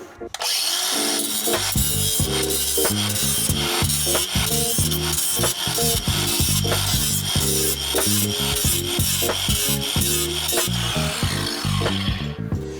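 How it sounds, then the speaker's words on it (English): An angle grinder cleans up galvanized sheet metal on new body mounts for an International Scout 80 in a workshop. The grinding is loud and abrasive, held close and continuous, and it pulses with rhythmic strokes across the metal. "Could I get my angle grinder so I can clean this up?"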